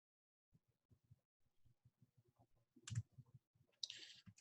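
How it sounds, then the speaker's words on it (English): Fingers tapping keys on a calculator, a series of light, quiet clicks in an uneven rhythm, close and soft, with a brighter beep-like tone near the end. "Type it in your calculator."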